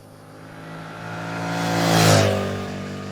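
A Suzuki SV-7 GX motorcycle engine revs up while riding on a hot day, its pitch and loudness rising steadily to a peak near the end before easing slightly, heard alone with no talk.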